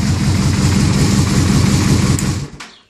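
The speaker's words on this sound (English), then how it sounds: "If I use the key, all my lights come on. The bike starts." A 2006 Yamaha Royal Star Tour Deluxe motorcycle engine runs steadily with a low, loud rumble, then cuts off abruptly near the end as the bike is killed, leaving a brief fading tail.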